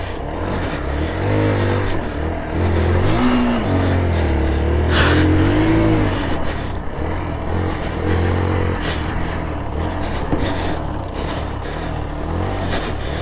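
A dirt bike ridden hard on a time attack run, its engine revving up and down continuously with rising and falling pitch, loud and close throughout with steady wind and road rumble underneath.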